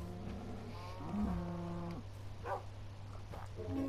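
Minecraft cows low in a pen, several drawn-out, tonal moos at moderate distance over a faint steady hum.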